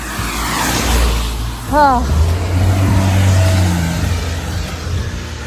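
Cars pass along a road beside a hiking trail, a steady low engine and tire roar swelling and fading as vehicles go by, with a brief voice exclamation and some background talk.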